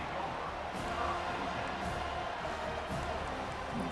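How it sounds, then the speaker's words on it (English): A packed stadium crowd roars steadily in a college football video game, Florida visiting Florida State, a dense continuous wall of cheering and noise with no clear breaks. "It's early, but this crowd is fired up. Listen to this noise here."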